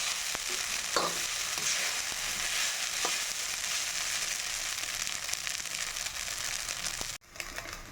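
Leftover rice being fried with green chilies in a pan gives a steady, close sizzle with crackling and occasional stirring scrapes, continuous throughout until a brief dropout near the end.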